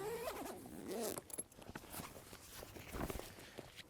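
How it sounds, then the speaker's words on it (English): A zipper is pulled open on the padded carry bag of an American DJ LED bar light, a close ripping zip followed by soft rustling and handling of the bag. "And so I'm going to unzip this guy."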